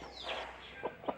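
A brooding hen sitting on eggs in a garden gives a few soft, low clucks close by, faint and short against quiet surroundings.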